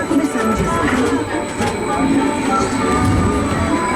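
Magnetic levitation commuter train sound effect on an Epcot ride, a steady rumbling rail-like drone with faint squeals. A narrator's voice talks over it the whole time.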